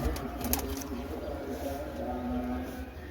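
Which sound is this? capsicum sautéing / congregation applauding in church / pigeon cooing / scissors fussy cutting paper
pigeon cooing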